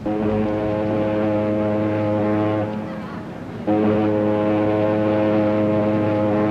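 A deep, sustained ferry boat horn blares loudly, dips briefly, then resumes just as strong, holding a low droning tone throughout.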